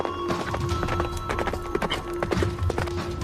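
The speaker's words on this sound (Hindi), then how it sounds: "दोनों घोड़े पर सवार होकर चल पड़े।" Two horses ridden through a forest in an audio comic, brisk clip-clopping hooves in quick irregular beats, loud and close over a steady background tone.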